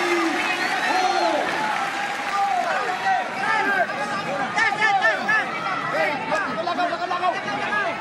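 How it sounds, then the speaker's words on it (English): A boxing championship crowd roars and claps at close range, with dense babble, cheering and scattered applause, while a commentator's voice runs through it. "as the crowd gets into the fight."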